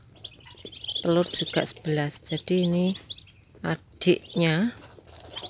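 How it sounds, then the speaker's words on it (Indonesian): Muscovy ducklings from a hatch of eleven chirp in rapid, high, repeated peeps close by, mixed with someone talking over them. "Dan ini dia anakan entok yang satu betina tadi."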